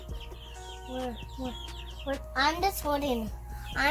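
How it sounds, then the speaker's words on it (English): Several chickens cluck and squawk close by in uneven bursts, with some quieter background noise and faint voices mixed in. "What are those behind you? Chickens."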